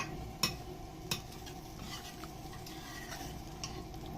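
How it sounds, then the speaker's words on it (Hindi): A spoon stirring beef karahi in a metal pot, two sharp clanks against the pot followed by soft scraping and light sizzling, quiet and close with no talk. "मिक्स करेंगे अच्छी तरह से"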